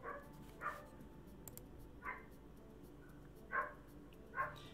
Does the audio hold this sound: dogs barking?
yes